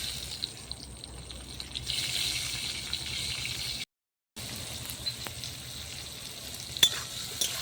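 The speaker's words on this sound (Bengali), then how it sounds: "টমেটোটা ভেজে নিয়েছি" Tomatoes fry in leftover fish-frying oil topped up with fresh oil, cooked over a clay stove: a steady close sizzle and bubbling crackle, briefly cut off midway, with a sharp pop near the end and no talking.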